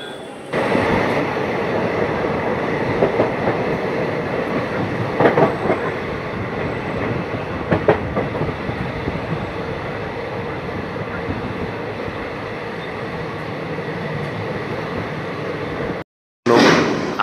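A passenger train on the Konkan route toward Ratnagiri rumbles steadily from inside a carriage, with faint clicks of the wheels over the rails and a brief cut near the end.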